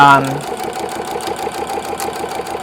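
A sewing machine with a walking foot stitches steadily along a paper-pieced quilting line, a fast, even mechanical whir with rhythmic needle ticks, close up, following a brief moment of talk at the start.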